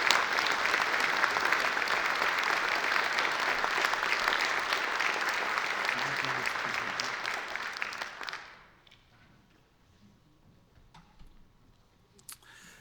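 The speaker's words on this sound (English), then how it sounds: "Let's give a final round of applause for our 2023 Distinguished Alumni and all of this evening's honorees." Audience applause at a university distinguished alumni awards ceremony, a dense, steady clapping that fills the room for about eight seconds before fading out, leaving quiet room tone with a few stray sounds.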